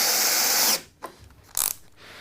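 A cordless drill whirs loudly and winds down. Then a few sharp clicks follow as its torque-setting clutch collar is turned, close and alone.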